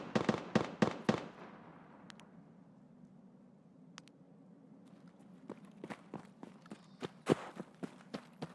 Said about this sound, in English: He's still shooting at something.